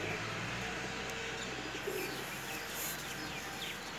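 A female Teddy Pakistani pigeon coos softly amid quiet background hiss, with faint low murmuring calls and a few light chirps from nearby birds.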